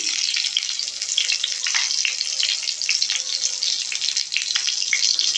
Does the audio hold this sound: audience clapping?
no